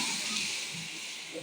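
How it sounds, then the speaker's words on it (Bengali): Whole mung beans boil in a pot, giving off a steady, fairly loud steam hiss that runs alone and unbroken throughout, with a faint bubbling undertone. "এটাই গোটা মুগ সেদ্ধ হচ্ছে"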